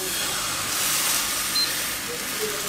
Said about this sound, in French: on va commencer la cuisson des crêpes à la betterave